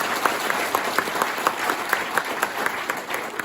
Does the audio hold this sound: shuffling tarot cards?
no